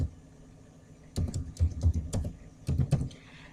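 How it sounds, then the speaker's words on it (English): Quick bursts of keyboard typing, clustered key clicks close up, with a brief pause between two runs of keystrokes. "So I'm just typing this."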